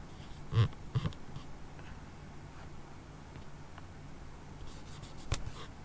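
Marker or chalk writing on a board during a Class 10 trigonometry lesson, with scratchy strokes and taps near the start and a sharp tap near the end, and a faint room hum in between.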